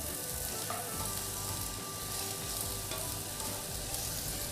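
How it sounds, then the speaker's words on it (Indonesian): Carrots stir-fried in hot oil for a green bean dish, a loud, dense, continuous sizzle close up with occasional faint scrapes of stirring. "setelah minyak panas lalu tumis ini ya wortel"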